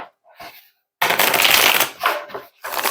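Tarot cards shuffled and drawn by hand: a couple of soft handling rustles, then a loud, close, sustained riffling burst followed by shorter card flicks and slides.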